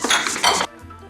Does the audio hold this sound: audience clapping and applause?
no